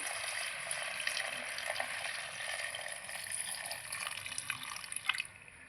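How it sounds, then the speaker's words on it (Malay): Thin coconut milk poured into a cooking pot for a pineapple river-snail dish, a steady close liquid splash and trickle that runs throughout, with faint sizzling beneath it. "Okey, kita masukkan santan cair dulu."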